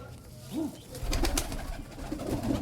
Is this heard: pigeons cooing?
yes